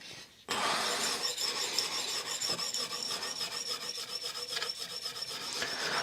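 Steady close scraping rasp of a knife blade being sharpened on a fine 14 to 20 micron Venev stone, continuous strokes with slight rhythmic variation, alone without talk.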